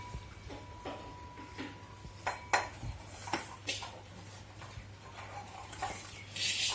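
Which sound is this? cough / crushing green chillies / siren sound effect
crushing green chillies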